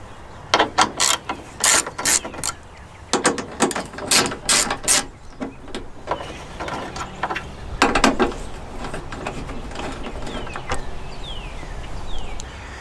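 A ratchet backs out 7mm screws holding a Chevy Equinox headlight housing, with bursts of sharp clicking in quick runs separated by short pauses, close and loud with no talk.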